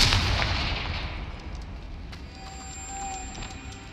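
A loud blasting explosion from the Confringo spell in Hogwarts Legacy bursts at the start and rumbles into a long decaying roar, with faint tonal game sounds lingering after.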